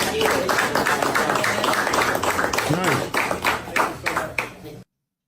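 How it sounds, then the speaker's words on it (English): A quick round of clapping from a small group on a live stream breaks up into scattered individual claps before stopping suddenly. "Everybody give a quick round of applause."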